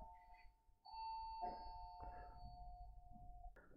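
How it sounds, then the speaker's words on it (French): Doorbell chime ringing indoors, a sustained electronic ding-dong tone lasting a few seconds, moderately loud and close, with low background rumble and faint shuffling noises. "Le gong a sonné pour vous sauver de moi"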